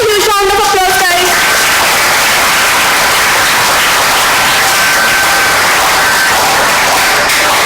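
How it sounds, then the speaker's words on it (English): Loud, sustained applause from an audience at a college Rotaract Club CPR training workshop run by doctors, a dense wash of clapping that follows a brief spoken voice at the start. "Give a huge round of applause"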